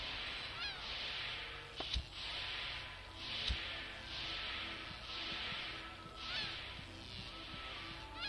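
Birds honk repeatedly in The Grinch video game, goose-like calls recurring in bursts over a steady hiss of ambient game sound, with a couple of sharp clicks.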